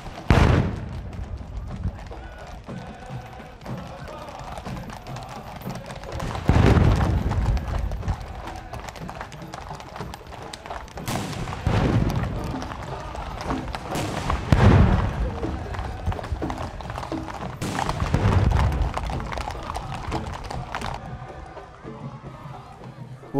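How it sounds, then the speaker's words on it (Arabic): Artillery fires a 21-gun ceremonial salute for the visiting Emir of Kuwait, heavy booms spaced several seconds apart and rolling off into echo over a busy outdoor background. "وتحية لمقدم ضيف البلاد الكريم، أطلقت المدفعية 21 طلقة"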